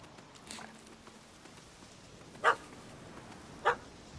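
A puppy barks twice in short, sharp yaps about a second apart, moderately close against a quiet outdoor background.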